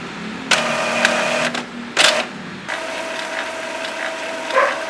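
Mechanical whirring and clicking from an Epson inkjet printer running head cleaning, in bursts with short pauses and a sharp clack near the middle, fairly close.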